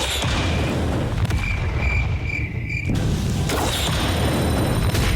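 Blazing Phoenix gun attack in the Blox Fruits video game: a loud, sustained roaring blast with booming rumble and thin whistling tones over it, a brief dip midway, then swelling again, with no talking.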